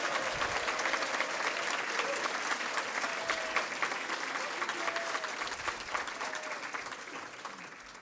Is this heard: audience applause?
yes